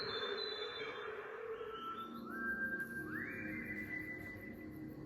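A person whistles a melody from a song, clear sustained tones that step upward in pitch over a soft, hissy background.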